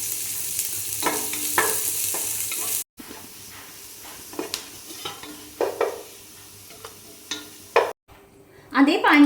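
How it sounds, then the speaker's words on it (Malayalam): Onions and raisins frying in ghee in a pan, with a steady sizzle and repeated scrapes and taps of a stirring utensil against the pan, fairly close and loud. "കുറച്ച് സവാള കൂടി ഒന്ന് ഫ്രൈ ചെയ്തിട്ടെടുക്കാം"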